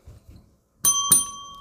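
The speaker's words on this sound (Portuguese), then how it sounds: "Acionar o sininho das notificações" A notification bell chimes twice in quick succession with a bright ringing tone that lingers and fades, following a few soft low sounds.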